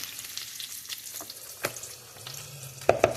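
Bacon, onion and bacon grease being stirred into hot potatoes for German potato salad, soft sizzling and scraping stirs with a few sharper clicks of a utensil, fairly quiet and close.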